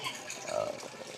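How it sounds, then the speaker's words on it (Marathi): Water from a perennial mountain spring runs steadily out of a pipe at a temple site, a faint, soft splashing hiss over about a second. "त्या झऱ्यातून इथं पाईप लावून आणलेलं पाणी आहे"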